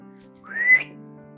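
A single short rising whistle, clear and close, over a low steady background hum.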